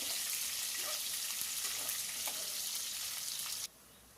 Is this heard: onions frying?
yes